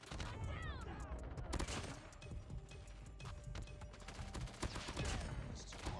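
Rapid hip-fire gunshots from a QXR in Call of Duty Mobile crackle in dense bursts with horse-like clatter in the background, steady and busy throughout, with no talk.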